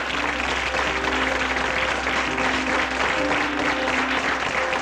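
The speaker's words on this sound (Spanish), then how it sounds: "Vamos a recibirlos con un aplauso de gloria a Dios." A church congregation applauds during a worship and praise service, steady dense clapping filling the room with a faint sustained musical tone underneath and no clear voices.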